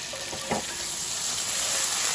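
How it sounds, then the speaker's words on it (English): Butter sizzles in a frying pan during a steak alfredo and shrimp scampi cook, a soft, steady frying hiss with a brief faint tap near the start and no talking. "I'm going to add some butter to the pan."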